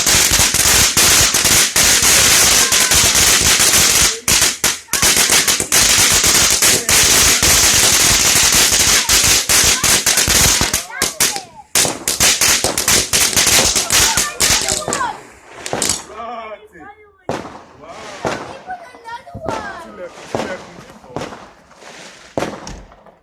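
Fireworks and firecrackers bang in dense rapid volleys on bonfire night, loud and continuous at first, then thinning into scattered sharp cracks with voices talking between them.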